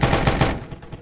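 Rapid gunfire from the video game Arma 3 crackles in a quick burst of four or five loud shots over about half a second, followed by fainter scattered echoes and small noises.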